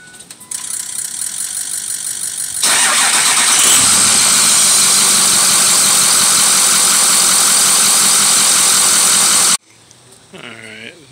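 A truck with electrical problems cranks and fires up, then settles into a loud, steady idle that runs for several seconds before cutting off abruptly, followed by a brief quieter stretch.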